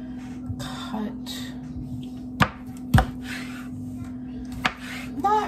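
A knife chops food on a cutting board in a few sharp, isolated strikes over a steady hum, with quiet handling sounds between cuts, while meal prep for lunchables and sheet pan Brussels sprouts goes on.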